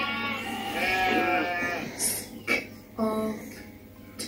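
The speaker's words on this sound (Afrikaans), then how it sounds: "Kom ons kyk 'n bietjie na die skaap." Sheep bleat in a children's educational setting: one long wavering bleat followed by two shorter bleats, close and fairly loud.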